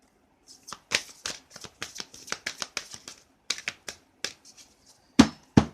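Tarot cards are shuffled by hand in a quiet room, giving a quick series of crisp riffling slaps and flutters in uneven bursts, with a couple of louder thumps near the end.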